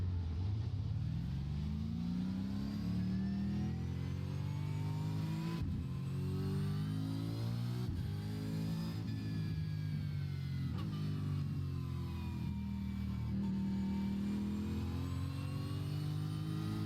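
A V8 Supercar race car launches from a standing start and accelerates hard, its engine howling up through the gears in a series of rising sweeps, with brief dips at each gear change, loud and close throughout.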